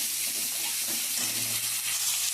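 Onion and green chilli frying in hot oil in a wok, a steady close hiss and sizzle with faint scraping of stirring underneath, no talk.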